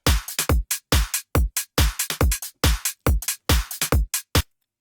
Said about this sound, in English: then we've got the kick